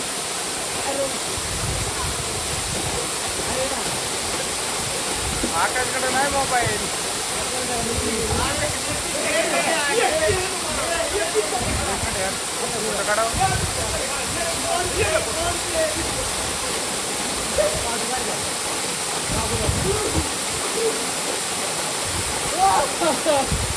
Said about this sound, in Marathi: धबधबे या ट्रेकला तुम्हाला पाहायला मिळतील